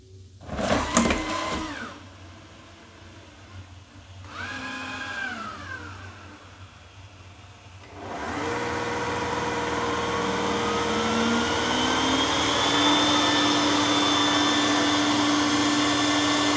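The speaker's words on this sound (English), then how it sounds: "Hey Google, start vacuum." A steady motorized whir and hum starts up partway through and keeps running, a Roomba S9 robot vacuum close by, after some brief electronic tones and quieter stretches.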